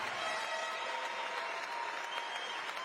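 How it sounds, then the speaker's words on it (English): Sustained applause from an audience at the 2021 Mr. Olympia Classic Physique bodybuilding contest, an even wash of clapping that holds steady without pause, heard from some distance. "let's have a round of applause for them"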